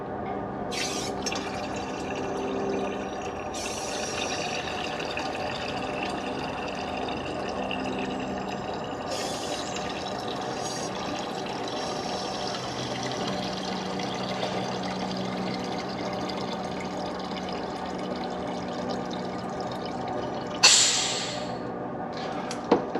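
Coolant flushing through an Ecotec engine's cooling system and out a return line into a jug, a continuous trickling, gurgling flow of liquid with a few brief splashes and a sharper spill near the end.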